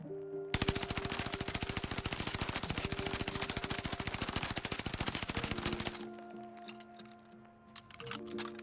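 A rapid burst of automatic gunfire from an Automaton gun in Warzone Pacific, a dense steady stream of shots running about five seconds, then stopping to leave quieter game ambience.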